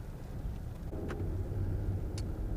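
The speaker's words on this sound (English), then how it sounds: "the sound of the engine is sounds like a typical 4-cylinder" A steady, low four-cylinder engine hum from inside a 2015 Ford Mustang EcoBoost, moderate and even, with a couple of faint clicks over the constant rumble.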